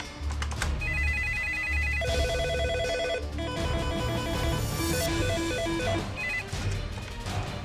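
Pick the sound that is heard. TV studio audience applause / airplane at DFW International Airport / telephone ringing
telephone ringing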